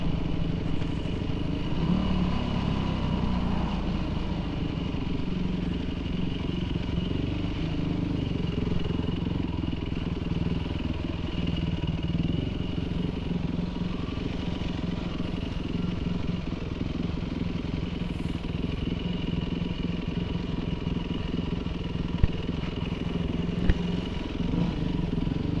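A 2005 Yamaha WR450 dirt bike engine runs steadily through a short ride, a continuous near, buzzing drone with slight shifts in pitch and mechanical clatter, and no voices over it.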